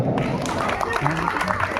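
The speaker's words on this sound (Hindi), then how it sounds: "तालियां जोरदार।" Audience applause at an outdoor Ramlila stage performance, a steady wash of clapping from a crowd that runs the whole time beneath an announcer's voice.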